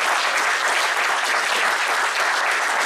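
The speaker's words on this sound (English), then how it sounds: "We're still going to give him a round of applause because that was great." An audience at a Gen Con 2019 convention panel gives a loud, sustained round of applause, a dense, even wash of clapping that fills the whole stretch.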